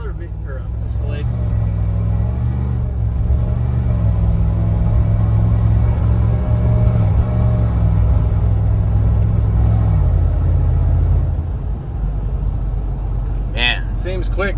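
An LT4-powered Cadillac Escalade accelerates at part throttle on the road, with a steady loud engine rumble that builds and then eases off near the end, while people talk inside the cabin.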